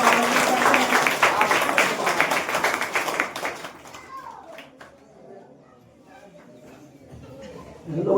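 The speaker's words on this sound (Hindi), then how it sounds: "आज हम लोगों को जगदेव सर को सुनना है तो जोरदार ताली के साथ आदरणीय जगदेव सर को आमंत्रित करते हैं।" An audience of children claps loudly to welcome a speaker at a school talk, a dense burst of applause that fades after a few seconds into quiet murmuring.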